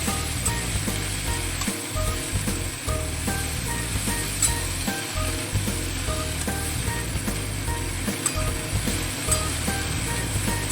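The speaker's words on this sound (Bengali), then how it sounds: "হলুদটা সবজিগুলোর সঙ্গে খুব ভালোভাবে নেড়ে ফেলে মিশিয়ে দেবো" Vegetables with turmeric powder being stirred in a frying pan, a continuous close sizzle punctuated by rhythmic scrapes and clacks of the spatula, with no voices.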